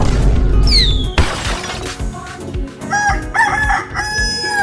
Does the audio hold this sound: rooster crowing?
yes